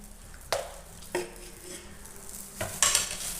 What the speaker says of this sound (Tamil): நல்லாவே மிக்ஸ் பண்ணி விடலாங்க இன்னும் கொஞ்சம் நேரம் இது நல்லா மிக்ஸ் ஆகணும்